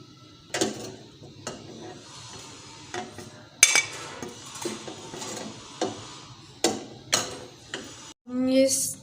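Cooked chicken being lifted out of a pot onto a plate, a series of irregular metallic clinks and scrapes of a utensil against cookware, close and fairly sharp, ending with a brief burst of louder clatter.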